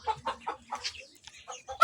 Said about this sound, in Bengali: এই হচ্ছে আমার পিকিং স্টার 13 হাঁসের বাচ্চা